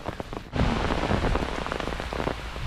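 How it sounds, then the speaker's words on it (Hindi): Heavy rain on a surface starts abruptly and then pours steadily, a dense close hiss with scattered drops and no speech. "अभी ये देखो बहुत अच्छी बारिश स्टार्ट हो गई है"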